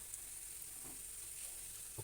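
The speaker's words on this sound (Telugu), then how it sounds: "2 పచ్చిమిర్చి, మంచిగా ఫ్రై అయ్యేదాకా కలుపుకోవాలండి" Green chillies and onion frying in oil for a spicy mutton fat curry, stirred in the pan: a faint, steady sizzle with soft scraping that stays quiet throughout.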